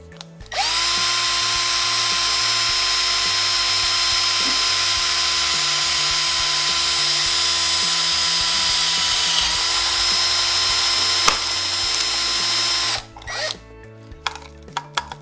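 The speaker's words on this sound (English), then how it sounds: "Put a piece of wood underneath it because you're going to be probably drilling all the way through it." A power drill whines steadily and loud for about twelve seconds while boring through a hard drive platter set over a piece of wood, then stops abruptly, followed by a few small clicks and clatter.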